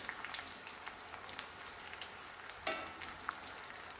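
Homemade tortilla chips fry in a pan of oil, giving a steady close crackle with scattered sharp pops and one louder burst of sizzle partway through.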